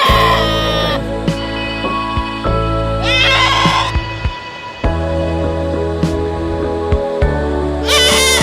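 A Barbari goat bleats loudly several times at a farm in Panvel, the wavering cries rising over steady background noise and mechanical hum.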